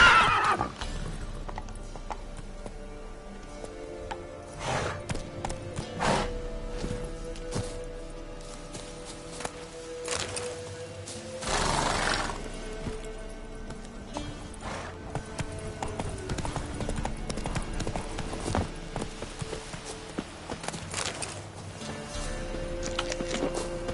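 A horse in a video game whinnies loudly, and its hooves clip-clop in a rhythmic run throughout. Neighs come near the start and again around midway.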